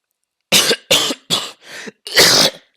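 Five sharp coughs in quick succession, close and loud, the last one longer and harsher, with short silences between them.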